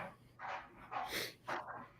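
A dog makes short, soft barks and whimpering whines, a few separate bursts at moderate distance, faint against a quiet room with no talking.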